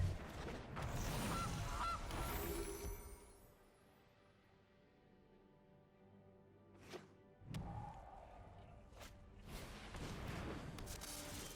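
Video game goose honks ring out in Magic: The Gathering Arena, a few short nasal blasts amid game effects and thuds, moderately loud within a busy mix of in-game sounds.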